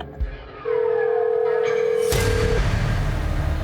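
A telephone rings unanswered as a steady electronic tone that runs for about two seconds, then cuts off into a burst of louder background noise, with no talk over it.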